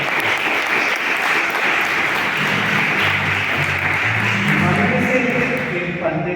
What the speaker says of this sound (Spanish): debemos un fuerte aplauso a Garnexel